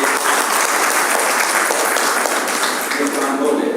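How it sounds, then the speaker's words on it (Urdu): An audience at a JNU memorial lecture hall gives welcoming applause, dense continuous clapping from many hands, loud and steady throughout with no voices on top. "تالیوں سے استقبال کیجیے"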